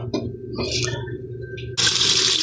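Tap water runs into a sink while a beef ear is washed before cooking sisig, at first a thin intermittent splashing, then a sudden loud, steady gush of running water close by.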